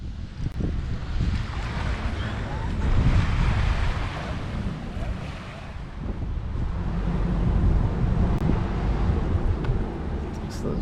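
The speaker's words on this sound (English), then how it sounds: "So we're here on the beach at Waikiki." Ocean waves wash onto the beach at Waikiki, Hawaii, as a steady low rumbling surf under heavy wind buffeting against the microphone.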